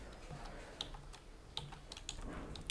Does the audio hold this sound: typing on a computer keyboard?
yes